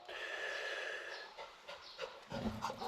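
A small brown dog pants excitedly up close, with quick rhythmic breaths, sniffs and a snort, moderately loud, with no talking.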